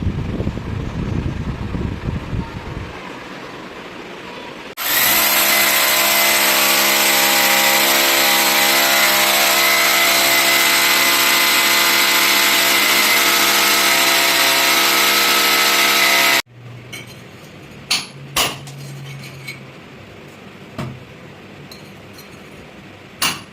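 A power drill boring into a concrete kitchen ceiling for a chimney fitting runs loud and continuous for about twelve seconds after a short rumble, then stops, followed by scattered clinks and taps.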